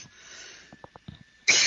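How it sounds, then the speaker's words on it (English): A single sharp, loud cough bursts out at the end after a few soft breathy catches, captured close up in a quiet indoor setting. "excuse me, I'm going to cough."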